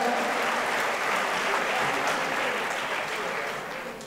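An audience at a celebration gathering breaks into loud, sustained applause, a dense wash of clapping that slowly fades toward the end.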